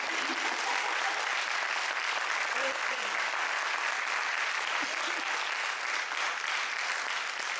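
Steady, dense applause from an audience honoring Dr. Toni Bark at a public event about Rhode Island health policy, loud and sustained throughout without letup.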